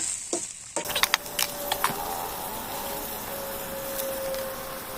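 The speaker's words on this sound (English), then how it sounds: "Now I'm frying pork." Pork sizzles and crackles in oil in a pan for an Assamese-style dish with ginger and chilli, a few sharp clatters and pops at the start settling into a steady close frying hiss with no talk.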